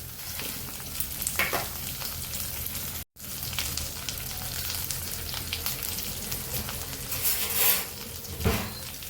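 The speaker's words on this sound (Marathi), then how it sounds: "सर्व साहित्य आपल्याला ब्राऊन होईपर्यंत परतून घ्यायचे." Green chilies, cashews, tomatoes, onion, ginger and garlic fry in a pan with a loud, continuous sizzle and crackle, a brief cut early on and occasional stirring scrapes, with no voices.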